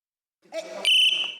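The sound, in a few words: referee whistle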